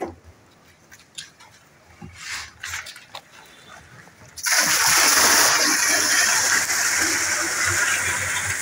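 Water gushes loudly and steadily into a container, drawn to prepare a large batch of EM5 solution, after a few seconds of quieter handling noises and small knocks.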